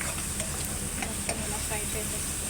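Chicken and capsicum frying in oil in a pan, a steady close sizzle with occasional stirring scrapes throughout, no talking.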